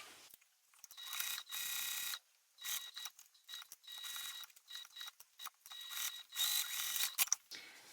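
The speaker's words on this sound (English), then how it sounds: "start sewing at the top, make sure I backstitch, and go all the way around" A sewing machine stitches around the edge of a fabric case with a magnetic snap, running in several close, steady mechanical bursts separated by short pauses as the seam is backstitched and sewn all the way around.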